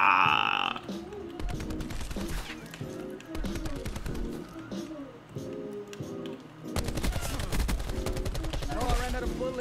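Gunfire in Call of Duty: Black Ops 4: rapid rhythmic bursts of automatic weapon fire, loud and close, with a dense volley near the end and a voice speaking over it.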